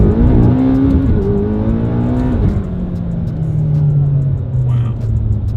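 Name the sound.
car engine revving during fast drive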